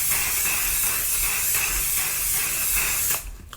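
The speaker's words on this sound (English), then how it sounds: "I'm going to spray it all over my face." One Size Until Dawn mattifying setting spray mists onto a face in a long, continuous close hiss lasting about three seconds, then cuts off abruptly, with no talking.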